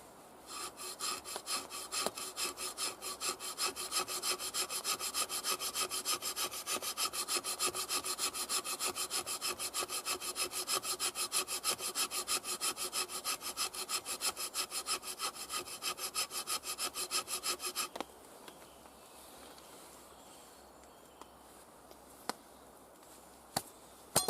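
Steady, rapid rasping strokes of an LT Wright machete blade scraping across wood run continuously for about eighteen seconds, close and fairly loud, then stop, leaving quiet outdoor background with a few faint clicks.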